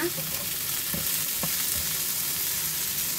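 Shrimp sauté in a hot pan, a loud steady sizzle filling the whole stretch, with a few soft stirring scrapes.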